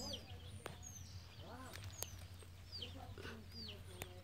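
Hens and chicks cluck and peep softly on a rural farm, scattered short calls and chirps over a low background hum, with a faint voice in the distance.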